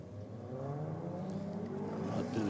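A Volkswagen Beetle drag car launches down the track with a rising engine drone that climbs steadily in pitch through the gears, moderately loud and growing louder toward the end.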